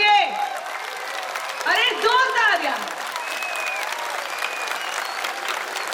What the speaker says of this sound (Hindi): इतनी तालियां बज रही हैं आपके लिए